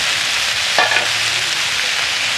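Vegetables frying with tomato, capsicum and ginger in a pan, a continuous close sizzle broken near the middle by a short scrape of stirring.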